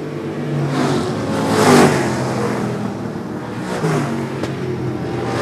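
Short track race cars accelerate hard down a backstretch in the closing laps of a Super Short Track Racing Series event, a loud engine roar that swells to a peak and then eases off.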